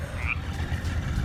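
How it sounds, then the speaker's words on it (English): A dense chorus of frogs croaking continuously outdoors, loud and close, with a low throbbing drone and a few higher calls on top, no voices heard. "we'll just let the frogs narrate the video"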